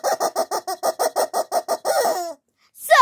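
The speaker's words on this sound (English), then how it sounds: "this is the war cry of the rubber chicken" Rubber chicken toy squeezed repeatedly, about a dozen rhythmic squawking honks in quick succession, followed by one longer drawn-out squeal and a brief pause, then a sharp rising squeak.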